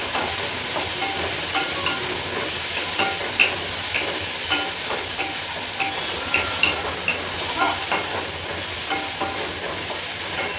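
Onions frying in a pan until browned, a loud, continuous hissing sizzle with frequent small ticks and pops of stirring running throughout, close and unbroken.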